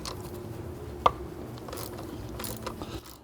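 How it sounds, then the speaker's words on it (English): A 3/8 drive ratchet with a 17mm socket breaks free the transmission fill plug on a BMW E46 M3, one sharp metallic crack followed by a few light ratcheting clicks in a quiet garage. "We're going to grab our 3/8 drive ratchet and our 17mm socket. We're going to go ahead and break our fill plug free."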